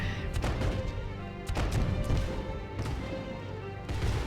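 Cannons fire in the real-time strategy game Rise of Nations, with a series of blunt booming impacts at irregular intervals over a dense battle din.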